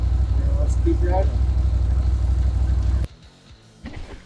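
A Polaris powersports vehicle being driven, its engine droning steadily and loudly with a low rumble before abruptly dropping away to quieter noise; a person talks over the engine.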